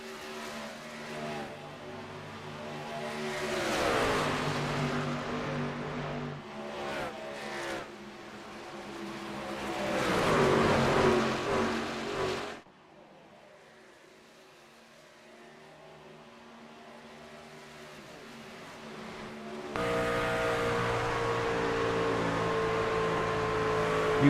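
Outcast racing trucks roar around the Charlotte track, engines rising and falling loudly as they pass close, then dropping to a distant hum before a loud, steady engine drone returns.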